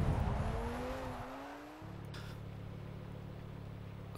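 In the Forza racing game, an Audi Sport Quattro S1 launches off the line. Its engine note climbs for about two seconds, then bogs down into a steady, droning hum with a faint tire scrub.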